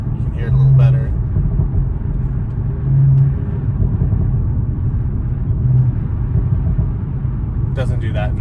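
Audi B9 S5 with a RedStar downpipe, engine and exhaust heard from inside the car with the vent open: a steady low rumble of driving with mild swells in revs, and a brief voice near the end.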